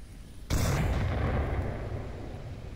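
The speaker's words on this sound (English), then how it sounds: "Another frag getting tossed out from Vikings" A frag grenade detonates in the VR shooter Onward, one sudden loud blast followed by a long rolling boom that slowly fades, alone with no voices.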